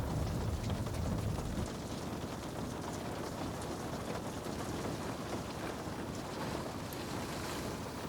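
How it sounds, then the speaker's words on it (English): Rain falls outside on a rainy evening, a soft, steady patter and hiss with a slightly heavier burst at the start, gentle and continuous. "Rain continues outside."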